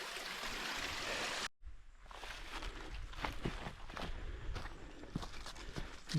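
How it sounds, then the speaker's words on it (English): Footsteps splash and crunch through a small creek on a hiking trail, with a steady stream of rushing water. Close, uneven steps over running water and no speech. "cross this little creek here."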